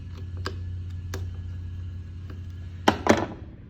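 Bolts being locked down on a spindle fixture squared to a jig plate: scattered sharp metallic clicks and taps over a low steady hum, ending in two louder clanks.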